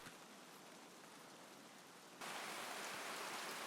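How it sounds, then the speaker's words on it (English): Rainfall in the video game Escape from Tarkov on the Woods map, a steady hiss of rain that suddenly grows louder partway through, with no voices. "this just went from like a nice sunny raid to overcast and rainy"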